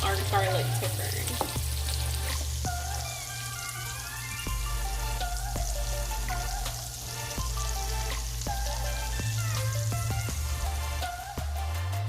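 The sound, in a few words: garlic and red bell pepper sauteing in bacon fat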